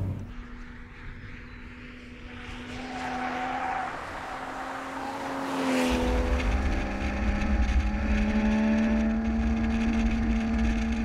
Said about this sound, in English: the occasional spit and crackle from the exhaust pipe